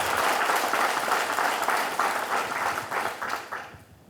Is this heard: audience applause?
yes